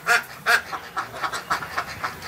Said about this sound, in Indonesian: kita juga bro itu bebek petelur.